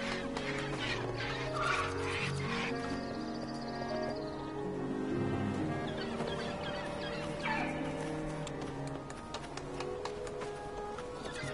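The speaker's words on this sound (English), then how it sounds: "I don't want to make these giant birds angry at me." Giant birds in the game Broken Age give a few squawking, clucking calls, moderately close, over a continuous soft musical and ambient background.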